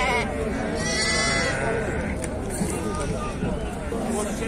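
Lambs bleat amid a busy sheep market in Füzuli, Azerbaijan. Their calls rise over a steady crowd hubbub, with people talking nearby the whole time.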